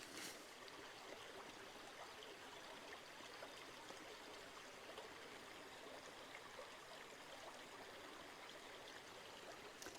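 Continuous rushing flow of a Highland river in Scotland along the Affric Kintail Way, steady and even throughout, heard alone with no voices.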